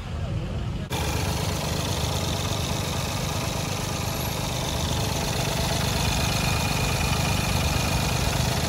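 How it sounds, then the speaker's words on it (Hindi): A Mahindra Bolero Power Plus BS-IV engine starts and settles into a steady, loud idle after coolant is added, with a constant mechanical drone that runs through to the end. "उसके बाद गाड़ी को थोड़ा देर के लिए स्टार्ट करके रखेंगे।"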